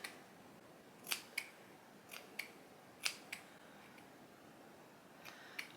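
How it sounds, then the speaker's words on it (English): Long hair being cut with medical scissors, a handful of crisp separate snips spaced about a second apart against faint background hiss. "I'm gonna take my super fancy medical scissors."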